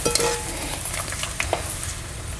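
Sabudana papad frying in hot oil: a soft, continuous sizzle and crackle close by, with a few small clinks and stirring taps scattered through it.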